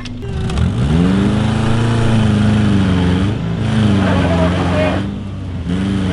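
A car's engine hums and revs steadily at close range as the vehicle moves off near a roadside ditch, with the pitch rising and falling through gear changes and people talking over it.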